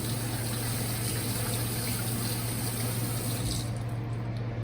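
Water runs steadily from a tap during handwashing in a kitchen while baking, a continuous close rushing flow that eases slightly just before the end.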